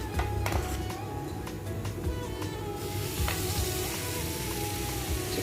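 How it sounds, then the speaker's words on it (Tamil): Masala frying in a pan before chicken is added for a chicken cutlet, a steady close sizzle with occasional stirring taps against the pan and no talk. "கொஞ்சம் நல்லா ஃப்ரை ஆகட்டும்"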